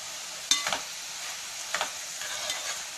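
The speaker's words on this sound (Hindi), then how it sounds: "तो उसको धीमी आंच पे आप चलाएं हमें प्याज ज़्यादा लाल भी नहीं करनी है" Onions frying on low heat in a pan, a soft continuous sizzle broken by a few scraping stirs of a spoon against the pan, close and fairly quiet, no talk.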